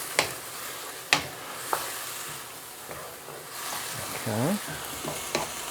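Soy sauce splashed into a pan of frying chicken and mushrooms, a low steady sizzle with a few sharp utensil clacks against the pan, and a brief spoken word partway through.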